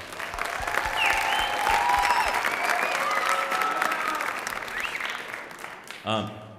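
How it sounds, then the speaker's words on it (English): A school audience at a middle school winter concert claps warmly and continuously in a full hall, with cheers and whoops rising over the applause before it fades and a voice begins to speak. "Please, please give her a big round of applause."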